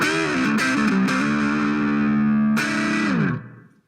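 A heavily distorted electric guitar played through a Zoom Player 2100 multi-effects unit sustains a chord, with the pitch bending downward before the sound cuts off and fades.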